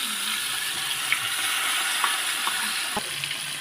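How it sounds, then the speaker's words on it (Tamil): Steady loud sizzling of fish frying in hot oil, with a few faint pops and clinks over the constant hiss. "மீனை வந்து இப்போ நம்மள வந்து பொரிக்கிறதுக்கு வைக்க போகிறோம்"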